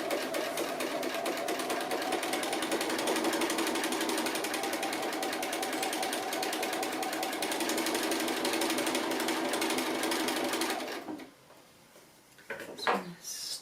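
A sewing machine stitches appliqué lines in steady, continuous running for about eleven seconds, then stops, leaving a quiet pause broken by a few brief handling clicks.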